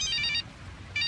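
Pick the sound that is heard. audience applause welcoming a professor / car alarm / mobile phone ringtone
mobile phone ringtone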